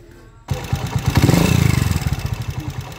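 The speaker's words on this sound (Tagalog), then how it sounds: "pinandar ko to para mapakinggan natin yung andar ng makina" A 200cc motorcycle engine fires up abruptly and runs close by with a rapid, uneven clatter from a noisy timing gear, swelling briefly and then settling into a rhythmic, choppy beat.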